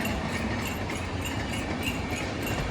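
A train rumbles past near Mangaon in the Konkan, a continuous, steady roar of rail noise that stays loud throughout, with no talking.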